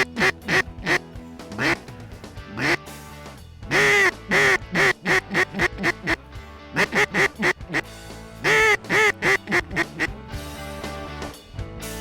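Ducks quack repeatedly over a harvested pea field in Saskatchewan, loud bursts of calls coming in clusters with short gaps, close by and unaccompanied by talk.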